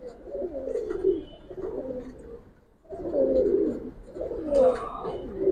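A Giribaj pigeon in a loft gives soft, low cooing phrases, two close bursts separated by a short pause, with no talk over them.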